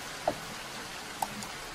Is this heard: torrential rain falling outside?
yes